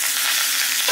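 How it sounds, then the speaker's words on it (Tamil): Mustard seeds and dried red chillies sizzle steadily in hot tempering oil for Tamil bun dosai, a dense, close, even frying hiss with no speech. "இப்போ இதுக்கு ஒரு தாளிச்சுக்கலாம். கொஞ்சோண்டு கடுகு போடுங்க. ரெண்டு வத்தல் போடுங்க."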